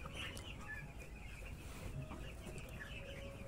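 Broiler chickens, about eight days old, clucking and cheeping close by in a poultry shed while a handful are caught, a continuous busy chatter of several birds over a low rumbling background.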